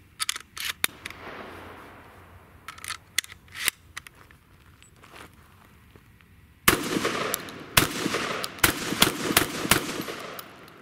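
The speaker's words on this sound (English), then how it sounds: "There's no way it's going to cycle in the semi-automatic shotgun. But let's give it a try anyway." A Remington V3 Tac-13 semi-automatic shotgun firing light hand loads, giving a series of sharp, loud, separate shots with mechanical clicks between them, and a quicker run of shots in the second half.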